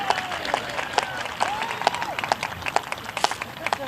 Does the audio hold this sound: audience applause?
yes